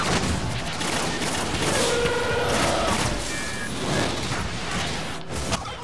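Sniper gunfire in a Destiny firefight on PS3, a dense, continuous wash of shots and booms rumbling throughout with brief sharper cracks, loud and close, no clear talk.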